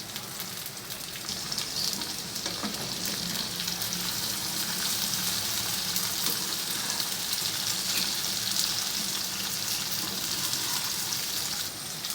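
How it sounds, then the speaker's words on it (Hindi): Okra (bhindi) fries over a medium flame in a pan, making a continuous, dense sizzle that stays steady and close throughout, with no talking. "हमारी भिंडी फ्राई हो रही है"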